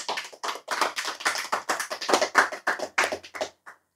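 Short bursts of clapping from an audience at a religious talk, several quick rounds of hand claps with brief gaps between them, close and clear with no voice over them.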